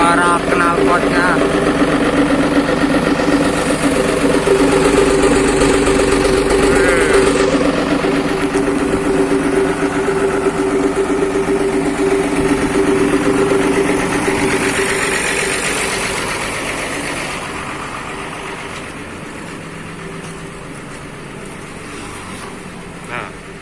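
Motorcycle engine fitted with a loud aftermarket Serigala exhaust runs steadily with a deep droning rumble, close and loud at first and easing slightly later, while people talk over it.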